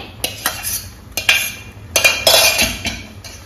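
A spoon scrapes and clinks against a pan while moong dal upma, semolina with cooked green gram, is stirred, giving irregular metallic taps and scrapes close up.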